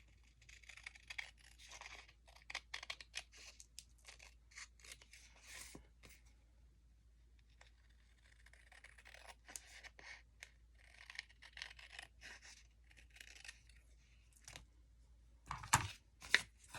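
Paper being trimmed with scissors during a junk-mail craft project making pockets and tags, heard as quiet, intermittent snipping and rustling in short bursts with pauses, close by and without talk.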